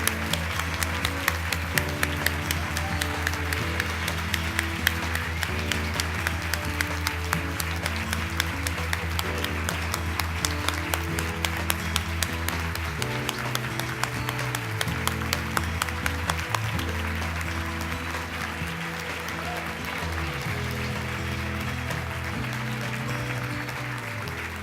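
A standing audience at the 2017 Women of Achievement event applauds steadily and loudly, a dense wash of clapping sustained throughout with music playing underneath.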